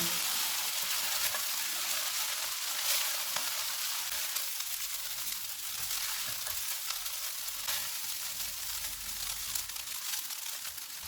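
Vegetable fried rice with boiled rice and green onion tops sizzles and crackles steadily in a pan as it is stirred, a continuous close frying hiss with soft scraping.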